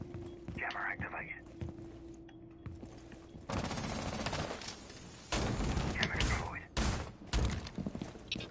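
Gunfire cracks from a window in a tactical shooter game, arriving in sharp bursts and rapid volleys after a quieter stretch, loud and close, with a faint voice talking under the action.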